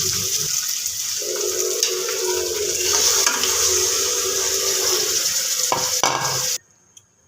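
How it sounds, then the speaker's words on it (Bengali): Water poured into a pan of frying potatoes hisses and bubbles close up over a steady sizzle, with stirring clatter near the end before the sound cuts off abruptly. "আলু কষা হয়ে গেছে, এখন পানি দিব।"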